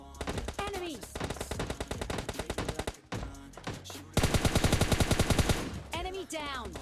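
Rapid automatic gunfire from the mobile battle royale game PUBG Mobile Lite, loud and close, in several long bursts of quick repeated shots separated by brief pauses, with short in-game sound effects between bursts.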